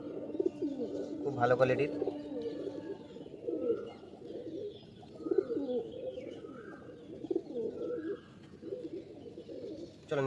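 Tournament pigeons, male and female pairs at a loft in Sankrail, Howrah, coo repeatedly in rising and falling bursts close by, while someone speaks briefly over them.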